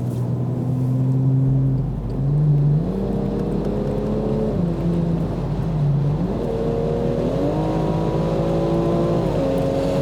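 A BMW M240 accelerating hard at high speed on a city avenue, its engine note rising steadily through the gears in loud, continuous sweeps with brief dips at each shift, close and sustained throughout.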